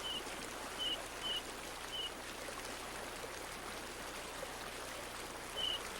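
A mountain stream flows steadily near Avalanche Gorge in a national park, a broad, even wash of running water at moderate distance with a few faint bird chirps above it.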